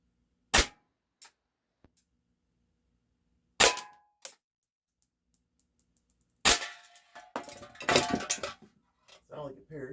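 Three sharp shots from a Walther PPS M2 airsoft pistol crack with metallic pings off an aluminum beer can, followed by a brief burst of voices and clatter.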